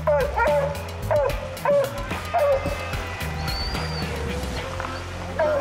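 A coonhound bays at a raccoon holed up in a den tree during a night hunt in Kentucky, its loud repeated barks and yips ringing out close by in uneven bursts, with a few quieter whimpers between them.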